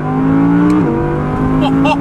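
An Audi R8 V10 Plus engine drones steadily and loudly as it accelerates, its pitch dipping briefly as if shifting gear, then holding a strong, even roar.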